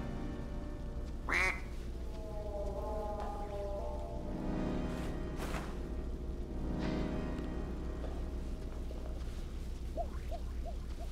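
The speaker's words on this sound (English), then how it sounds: "None of them care about that damn duck." Repeated duck quacks from the video game We Happy Few, one sharp quack early and a short run of small quacks near the end, set over a steady game ambience hum with no talking.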